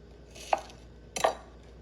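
A knife chops through a good-sized red onion on a cutting board, two crisp separate thuds about 0.7 seconds apart, close and clear against a quiet kitchen background.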